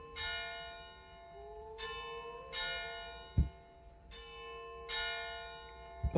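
Clock chimes ringing inside the horror game Layers of Fear, several rich bell-like strikes with long ringing overtones spaced irregularly over a low ambient drone, fairly loud and with no talking.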